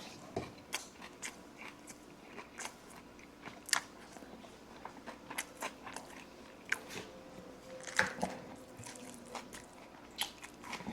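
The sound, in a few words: chewing and biting biscuits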